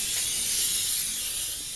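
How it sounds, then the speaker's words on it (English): Cooking spray hisses in one steady, close burst onto a grill. "I'm just going to spray down my grill."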